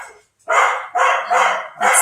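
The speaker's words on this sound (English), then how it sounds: "That's the neighbor dog. They got him going." A neighbor's dog barking: four loud, close barks in an uneven rhythm after a brief pause, with no voices over them.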